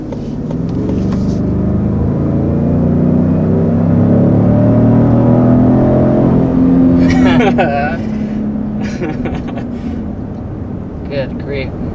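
Lincoln Navigator SUV with a twin-turbo V6 pulls hard up to 60 mph, a loud, steady engine and road rumble swelling through the run, with a person talking over it partway.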